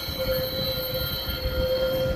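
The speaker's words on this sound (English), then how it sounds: "There's the back of the Metro train." A Chicago Metra commuter train rolls past on the rails, its steady rumble and wheel squeal holding throughout alongside a sustained high whine, continuous and fairly close with no talk.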